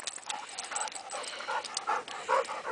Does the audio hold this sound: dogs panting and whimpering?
yes